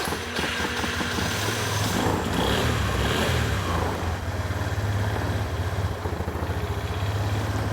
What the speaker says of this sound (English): as with anything carbureted, it kind of takes a while till the idle stabilizes